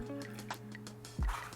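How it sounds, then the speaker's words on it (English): Kombucha starter liquid pours into a jar holding the SCOBY and lands with one short, close liquid splash after a quiet kitchen hum. "Little splash."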